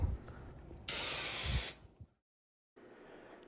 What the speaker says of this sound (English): Here you can see me spraying it again after sanding